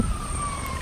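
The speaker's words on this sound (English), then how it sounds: "There's always a siren on this street." An emergency siren passing on a city street, a sustained wailing tone with a steady rising pitch, heard over low traffic rumble at moderate distance.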